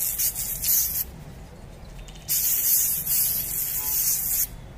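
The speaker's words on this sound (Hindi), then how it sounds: "सो सबसे पहले हम स्नो स्प्रे को करते हैं, ये देखो।" A Holi snow spray can sprays foam onto a wall in two long hissing bursts separated by a short pause, loud and close with no talking.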